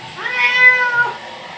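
A domestic pet cat meows once, a clear, drawn-out call close by and alone, rising and falling over about a second.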